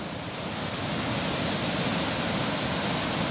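A river in full spate near Shimla roars as a steady, dense wash of rushing water, loud and unbroken throughout with no voices.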